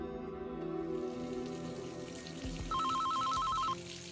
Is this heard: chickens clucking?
no